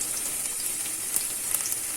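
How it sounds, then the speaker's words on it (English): Chicken, garlic and mushroom fried rice sautéing uncovered in a pan over a high flame, giving a steady, close hiss of frying with a few brief crackles and stirring clicks, heard alone. "It's been frying for a minute now on a high flame without the lid."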